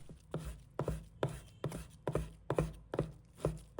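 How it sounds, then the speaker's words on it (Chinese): A kitchen knife chops food on a cutting board in a steady rhythm of about eight crisp, close strokes, evenly spaced, with no voices. "切的时候注意下刀力度，别太着急，要切得一致"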